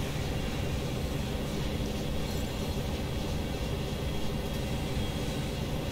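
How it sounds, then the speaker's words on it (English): Steady, dense rumble of an old GP9 diesel locomotive running in Train Sim World on a Canadian line, constant and fairly loud throughout with no talk or change in level. "And I like this old locomotive."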